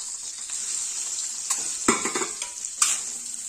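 Cut boiled eggs tossed with chilli powder, turmeric and salt in a hot pan for village-style anda curry, a steady frying sizzle broken by a few sharp spatula scrapes and clinks against the metal.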